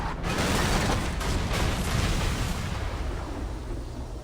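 A loud explosion in the video game Far Cry 3 fills the clip with a dense, roaring rumble that holds steady for several seconds and only slightly fades toward the end, with no one talking over it.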